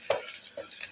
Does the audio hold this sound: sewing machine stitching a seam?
no